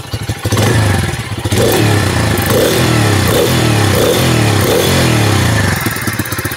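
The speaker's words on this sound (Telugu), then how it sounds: "సో ఇప్పుడు ఒకసారి ఇంజన్ సౌండ్ విందాం." A Bajaj Freedom 125 motorcycle engine runs on CNG, a steady, loud, close single-cylinder thrum with a rhythmic pulsing throb and light mechanical clatter throughout, with no talking.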